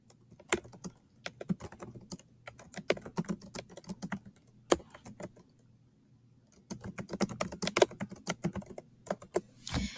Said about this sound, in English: So now everything I type is just in this box.